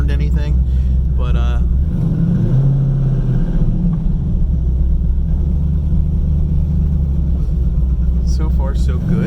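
A car fitted with a big camshaft pulls away cold, its engine a deep, lumpy low rumble close by, with someone talking over it at the start and end.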